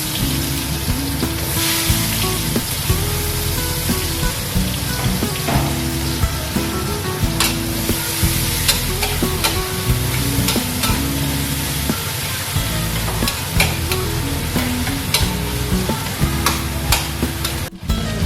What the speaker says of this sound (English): Stir fry the big onion.